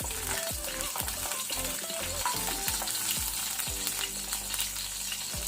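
Green chillies fry on a low flame in a pan for crab masala, giving a steady crackling sizzle with soft bubbling pops and occasional stirring clinks throughout.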